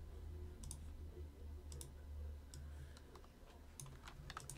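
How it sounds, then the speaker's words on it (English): Quick bursts of keys clattering on a computer keyboard, irregular clusters of clicks over a steady low hum. "Be typing these into the random.org."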